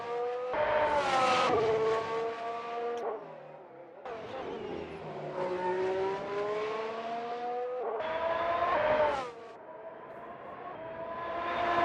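Simulated race car engine from Assetto Corsa on an out lap at Baku, loud and continuous with rising and falling revs, sharp gear shifts and repeated acceleration sweeps through the final corners.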